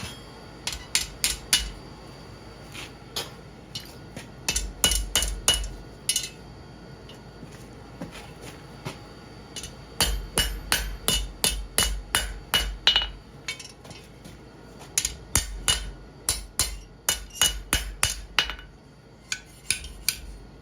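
A steel bar for an outdoor fire poker is hammered straight, with clusters of sharp ringing metallic blows in quick bursts and brief pauses between them, loud and close, with no talk.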